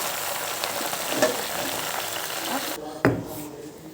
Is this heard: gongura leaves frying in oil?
yes